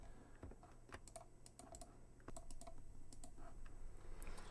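Computer keyboard keys clack in a steady series of distinct presses, close and clear, with a quiet hum behind them.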